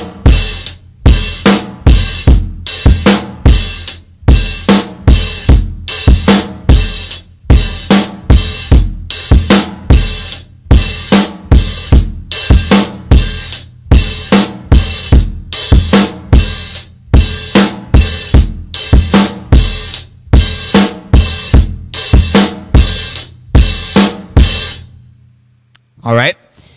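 A drum kit plays a steady groove with the hi-hat opened on the off-beat ands, giving short washy hi-hat swells between punchy kick and snare hits, close and loud, with no voices.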